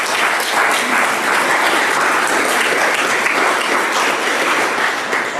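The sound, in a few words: audience applause at anniversary celebration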